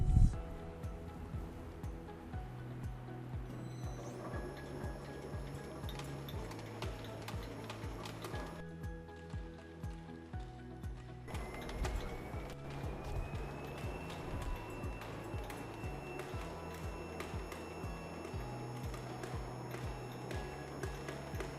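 An automatic powder press runs production, with a feeder delivering powder into the die: steady rhythmic mechanical clatter and repeating ticking cycles continue throughout at a constant moderate level, with no voices.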